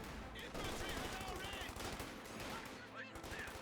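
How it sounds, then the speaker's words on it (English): Rapid bursts of gunfire crackle through the busy soundscape of the video game Company of Heroes 2, repeated shots layered over background noise and faint voices. "He does wipe it out with standard gunfire."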